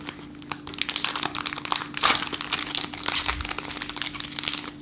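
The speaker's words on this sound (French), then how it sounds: "je vais vous déballer un paquet pour voir un peu ça ressemble à quoi" A Star Wars Destiny card booster pack being unwrapped up close, with loud, continuous crinkling and tearing of the foil wrapper in irregular bursts and no talking.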